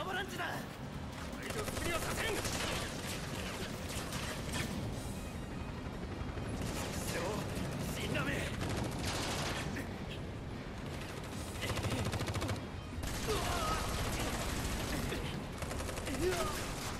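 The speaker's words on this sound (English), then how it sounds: "You are already shooting at them." Dense, rapid gunfire rattles almost without pause in a Final Fantasy VII Remake battle, loud and close, with bursts swelling and easing over a busy mix of combat effects and voices talking throughout.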